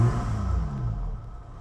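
A Lotus 3-Eleven sports car with its silencer fitted, engine rumbling at idle on the Zandvoort circuit, a loud, deep, steady drone with no talk over it.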